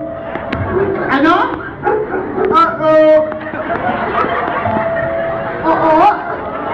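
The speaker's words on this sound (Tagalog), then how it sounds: "maraming tahol" A dog barks repeatedly at close range, sharp yips and bow-wows coming in bursts over a murmur of background crowd chatter and nearby voices.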